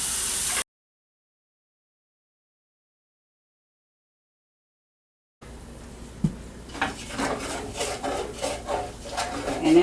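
Spoon stirring canola oil roux in a pan while scraping up browned bits stuck to the bottom, making Southern tomato gravy; after a silent gap, a steady close rasping scrape with irregular clinks and rubbing strokes builds louder.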